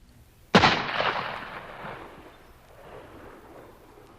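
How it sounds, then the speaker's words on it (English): A single sharp gunshot cracks out and rolls away into a long, fading echo, heard alone with no talking. "he pulled the trigger of his gun"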